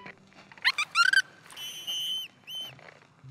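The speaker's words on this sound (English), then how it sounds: "Give us a nice whistle now." A cartoon baby dolphin gives a string of high, bright whistles: quick rising chirps followed by two longer sustained tones with a short gap between them, clear against near silence.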